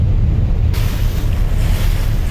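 A large passenger launch, Sundarban 16, cruises at speed on a river between Barishal and Dhaka, giving a loud, steady low rumble of engine and rushing water with wind buffeting the microphone.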